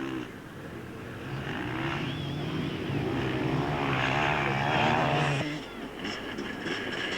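A 500cc two-stroke enduro motorcycle at the 1992 International Six Days Enduro in Cessnock, Australia, ridden past close by with a loud, raspy engine note that rises and peaks, then eases off near the end.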